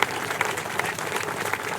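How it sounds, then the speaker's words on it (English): Round of applause from a crowd at an outdoor Marine Corps observance ceremony, a brief, dense burst of clapping heard on its own. "So let's give them a round of applause"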